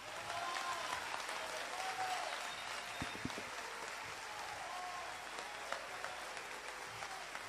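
An audience applauds after a keynote speech, a sustained wash of steady clapping from a large crowd filling the room evenly, with a few sharper claps standing out.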